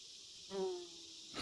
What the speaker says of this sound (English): If you're wondering, that's a bumblebee nest.